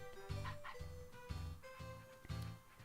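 A dog in the Nintendogs video game for the Nintendo DS gives a quick series of five or six small, evenly spaced barks over soft game music.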